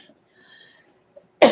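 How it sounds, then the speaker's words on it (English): A single dry, harsh cough bursts out near the end after a quiet stretch, close and fairly loud. "It's a dry cough too."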